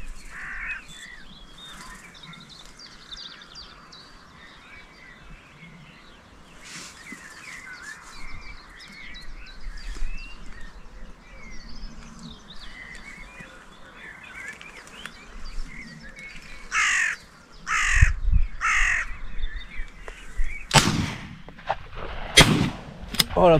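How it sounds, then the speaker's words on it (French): Carrion crows caw in a series of loud, harsh calls near the end of a long outdoor stretch, mixed with sharp shotgun blasts during corvid control; quieter bird chatter and low rumble fill the earlier part. "Encore une corneille noire."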